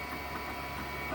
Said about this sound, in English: So there they are printing.